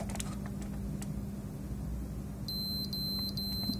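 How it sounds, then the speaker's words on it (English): A PS4 Pro plugged into power gives three short, high, thin electronic beeps, faint against a low steady hum and background noise. "Yep, it's still beeping."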